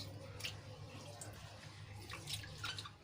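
Rice and lentils being rinsed in water for Gujarati khichdi, with soft sloshing and trickling sounds of water in a bowl, faint and close, under a low steady background hum.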